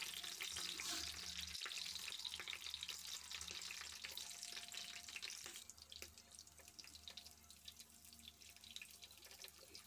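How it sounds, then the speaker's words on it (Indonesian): Oil sizzles and crackles steadily as eggplant fries in a pan, a dense hiss with scattered pops, loud at first and easing slightly. "Sekarang kita akan goreng dulu terongnya"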